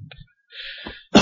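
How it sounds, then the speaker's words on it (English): A single close cough bursts into a microphone at the end, following a few quiet breathy throat sounds and a short exhale. "I'm going to keep coughing in the mic every now and then"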